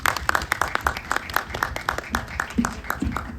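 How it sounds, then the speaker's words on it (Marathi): An audience at a film trailer launch event claps in a loose, sparse pattern of distinct hand claps, moderately near and fairly light rather than a dense roar. "तो जोरदार टाळ्या."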